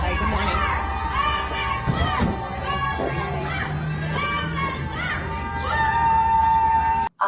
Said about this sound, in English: they were all outside of there cheering for Johnny and booing her, like this clip right here